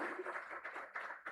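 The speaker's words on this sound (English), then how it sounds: "let's have a round of applause for them" A round of applause breaks out at an international seminar on governance, financing and pollination, a brief spell of dense clapping from the audience with a few louder bursts toward the end.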